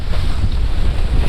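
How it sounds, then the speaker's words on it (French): Strong wind buffets the microphone while kitesurfing on the sea, a loud, rumbling, continuous gusting roar over a brief moment, with no talking. "il y a du vent"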